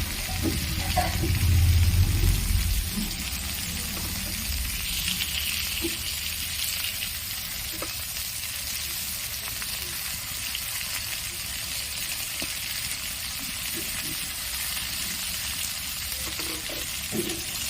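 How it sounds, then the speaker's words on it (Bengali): Pointed gourd (potol) slices frying gently in oil in a pan, giving a steady, soft sizzle throughout with occasional stirring clatter; no talking. "একদম হালকা করে ভেজে নেব।"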